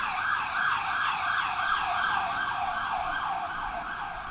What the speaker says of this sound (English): Can we let this siren pass?